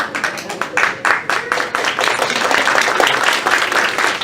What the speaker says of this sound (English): get your clap on because there's a whole lot to clap about